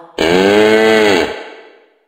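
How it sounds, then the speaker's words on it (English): A cow gives one loud, sustained low moo lasting about a second, then it trails off; close and alone. "Cow."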